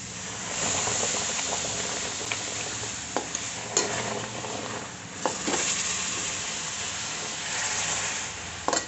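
Boiled milk is poured slowly into semolina that was roasted for twenty to twenty-five minutes for coconut rava modak, giving a continuous close sizzle and hiss with scattered scraping clicks of stirring; no one talks.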